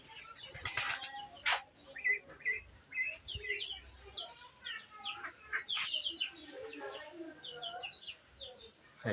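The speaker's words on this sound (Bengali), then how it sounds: "এই যে দেখেন কবুতর" Pigeons at a rural farmyard beside a pond shuffle and flap their wings in short bursts near the microphone, mixed with chirps and clucking from nearby fowl and a faint voice.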